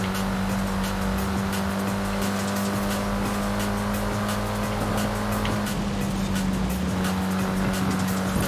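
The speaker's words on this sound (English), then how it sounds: "This is a really nice handling car" A car driving in Forza Horizon 5, with a steady, loud engine drone and a sustained pitch held throughout, some tire noise and a shift in engine tone partway through, no talking.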